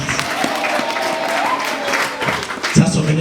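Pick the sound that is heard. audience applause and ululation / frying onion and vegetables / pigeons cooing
audience applause and ululation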